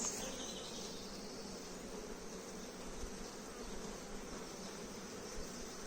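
Bees buzz around a beehive frame in a close, continuous droning hum that holds steady without pauses, no talking.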